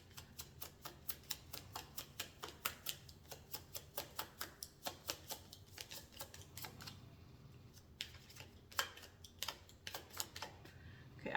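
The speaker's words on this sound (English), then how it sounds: "I just shuffled the whole deck and I'm not getting another card" Tarot cards shuffled in a deck, producing a quick series of crisp, close riffling taps and snaps in an irregular rhythm over a quiet background, with no talking.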